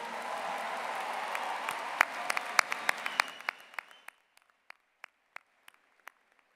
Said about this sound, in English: I'd ask you to join me with another round of applause for our musician, Mr. Ralph Furano.